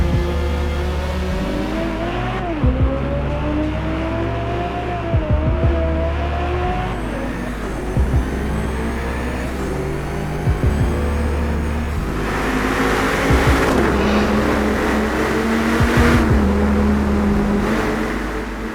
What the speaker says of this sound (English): Each reference car was fitted with at least 16 separate microphones to authentically capture the sounds of the engine from 360 degrees inside and outside of the car.